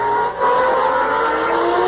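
Formula One cars out on track during qualifying at the 1994 European Grand Prix, a sustained high-pitched engine wail heard from a distance, with a brief dip before the sound swells again.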